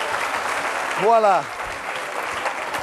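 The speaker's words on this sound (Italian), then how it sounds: "Applauso" Audience applause fills a live 1996 Italian TV variety show at La Bussola in Marina di Pietrasanta, steady and continuous throughout, with a host's brief spoken exclamation rising over it midway.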